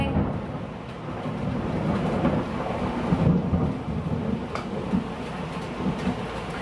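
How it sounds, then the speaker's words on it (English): Thunder rolls as a long, low rumble with rain in the background, swelling and fading over several seconds at moderate loudness with no talk. "That thunder is disrespectful."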